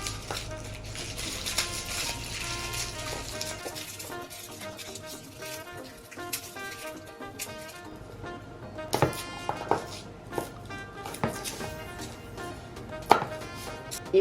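Garlic being chopped on a board while cooking humba, a run of sharp knife strikes with irregular spacing, some louder isolated chops toward the end, close and without talk.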